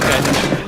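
Gunfire in the video game PUBG, a brief, loud, dense burst of shots.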